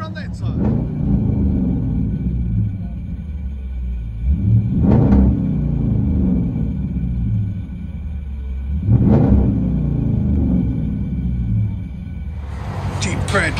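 A 2012 Jeep Grand Cherokee with a 5.7L HEMI V8 and Flowmaster Outlaw dual exhaust with a rear delete and 4.5-inch tips. It holds a deep, loud idle rumble with a few rev swells, and a voice is heard near the end.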